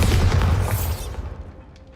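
A booming Bombarda spell explosion erupts in Hogwarts Legacy, a loud, heavy blast with a crackling burst that rumbles and fades out over about two seconds.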